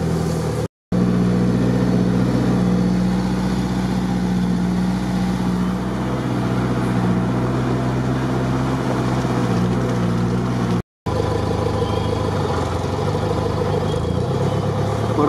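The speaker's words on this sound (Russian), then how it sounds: "Проехал патрол." A blue Nissan Patrol SUV driving off-road, its engine a loud, steady rumbling drone close by for most of the clip, broken by two brief dropouts.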